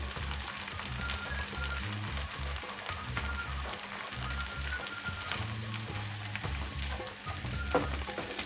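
Chopped onions and boiled green lentils fry in a pan for a poppy-seed lentil pastry filling, a steady close sizzle with occasional stirring scrapes and no talk.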